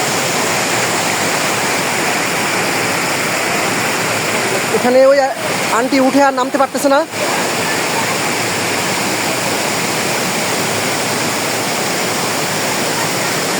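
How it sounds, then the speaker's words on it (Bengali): A waterfall at Jaflong roars continuously and loudly in a steady rush, the season's first flow pouring into a river; a person speaks briefly midway over the noise. "ঝর্ণার যে আওয়াজ আপনারা শুনতে পাচ্ছেন কিন্তু সবাই"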